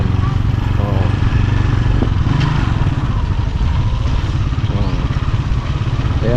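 Two motorcycle tricycles pass close by on a slippery, muddy road, their mid-pitched engines clattering and shifting as they go, with some background voices.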